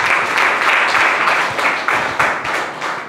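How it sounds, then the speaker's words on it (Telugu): A church congregation at a Sunday service in Vijayawada claps loudly in a steady, rhythmic beat that keeps going throughout. "గట్టిగా చప్పట్లు కొట్టండి."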